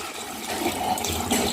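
Hot water poured into rice in a cooking pot for tomato rice, a steady continuous splashing gush running loud and close throughout, with no talk.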